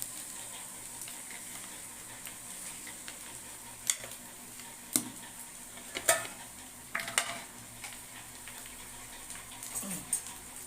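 Chicken pieces sizzling in a pot for chicken biryani, with a steady hiss broken by several sharp scrapes and clinks of a spoon stirring against the metal, heard alone without speech.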